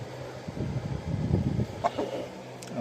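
Brahma chickens cluck softly nearby, with a few low, scattered clucks over quiet farmyard background and one sharper call near the end.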